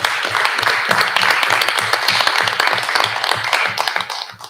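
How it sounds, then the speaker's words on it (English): A room of people clapping in a round of applause for local EMS staff at a town meeting, steady and moderately loud, fading out at the close. "I think it's worth recognizing them with just a round of applause"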